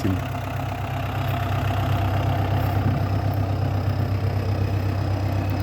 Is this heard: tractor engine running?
yes